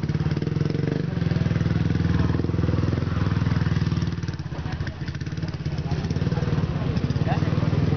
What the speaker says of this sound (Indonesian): Inilah naik motor yang benar.